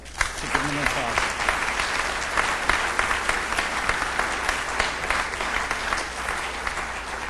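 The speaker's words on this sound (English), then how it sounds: "So give them an applause." Audience applause at a metro council community award ceremony, a steady wash of many hands clapping together, fairly loud and sustained for several seconds with a brief voice heard at the start.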